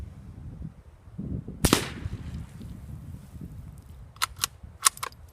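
Suppressed Savage Mark II FV-SR .22LR rifle firing one subsonic Winchester round: a single sharp, close crack followed by a short decay, with faint distant clicks of the action afterward.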